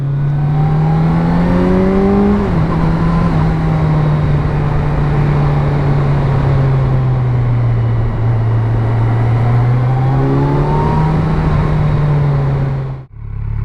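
A 2017 Kawasaki Z900 motorcycle engine runs loud and close throughout, its pitch climbing steadily under acceleration, dipping at a gear change, then rising again through the revs before cutting off abruptly at the end.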